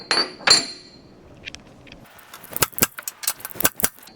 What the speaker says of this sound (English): I'm going to whack these all one more time just to make sure they're all seated good and proper